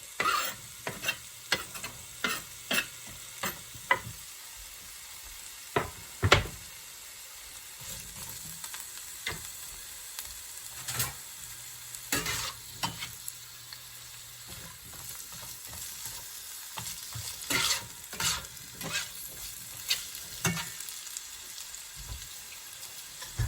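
Onions and peppers fry in olive oil in a pan, with a soft steady sizzle broken by frequent crackles and pops and the occasional scrape of stirring, quiet and close, with no talking.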